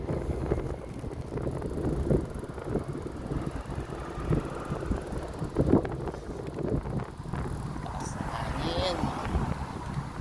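Steady wind rumbles and buffets the microphone throughout, with faint voices in the background.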